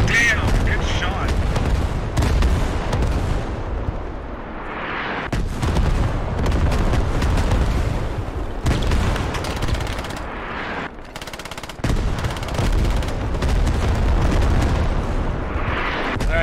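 Heavy artillery and machine-gun fire in the military shooter Squad, a sustained barrage of loud booms and rapid bursts with shouted voices mixed in throughout.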